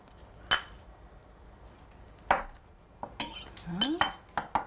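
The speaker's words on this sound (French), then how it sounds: "On mélange bien." A bowl of bulgur salad being mixed with spices, finely chopped chives and shallot: close scraping and clinking of a spoon against the bowl, a few isolated knocks and then a busier burst of stirring.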